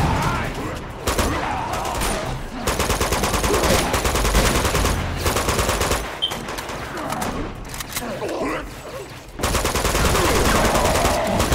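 Rapid automatic gunfire in the Uncharted 2: Among Thieves video game, loud sustained bursts broken by brief pauses, with voices speaking underneath the shooting.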